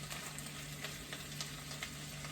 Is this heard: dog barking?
no